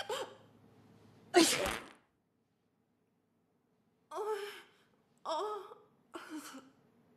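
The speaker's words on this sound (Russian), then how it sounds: "Чихнула и сразу полегчало." A single sharp sneeze from a woman, loud and close, followed by a pause and then three short breathy sighs or gasps with no talk.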